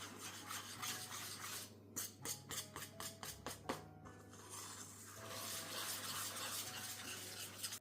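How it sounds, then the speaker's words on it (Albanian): A spoon scrapes and rubs around a bowl, mixing cocoa into eggs and butter for a quick chocolate baklava batter, with a short run of rhythmic taps in the middle; no voices. "Tani do të përzijej mirë që e gjithë kakao përzihet mirë me vezët dhe gjalpin"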